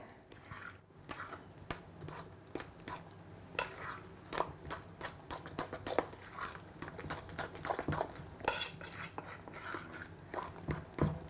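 A spoon stirs pesto pumpkin pancake batter in a bowl, giving repeated close scraping and clinking strokes in an irregular rhythm, with no talking.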